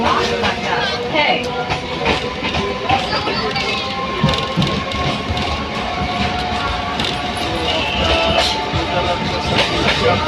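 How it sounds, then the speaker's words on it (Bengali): A Kolkata suburban train pulls into Bagbazar station with a loud, continuous rumble and rhythmic wheel clatter, squealing metal and crowd murmur on the platform, and voices talking beneath the din. "ট্রেন বাগবাজার ঢুকছে।"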